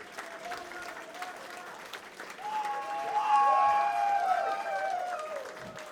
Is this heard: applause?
yes